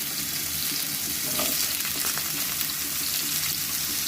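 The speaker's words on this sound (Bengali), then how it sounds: "দিয়ে কাঁচকলাটা আমি ভেজে নেব" Raw banana pieces with salt and turmeric frying in oil, a loud, dense, continuous sizzle heard close up with occasional stirring, no voices.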